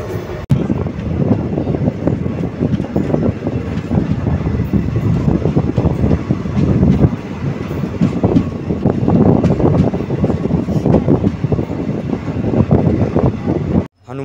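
A slow passenger train between Shri Ganganagar and Sadulpur rumbles steadily along the line between stations, with continuous wheel and carriage noise and some wind buffeting throughout, no talk.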